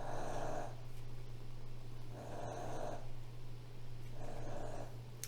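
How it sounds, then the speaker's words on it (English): A dog snores nearby in slow, regular cycles, each drawn-out rasping breath rising and fading about every two seconds over a low steady hum. "my dog's snoring"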